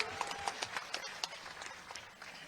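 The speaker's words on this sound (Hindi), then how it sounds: "जोरदार ताली समरीलाल जी के लिए भी।" A crowd at a political rally in Kanke, Ranchi claps for a speaker, fairly faint and uneven bursts of hand claps scattered over a couple of seconds without talk.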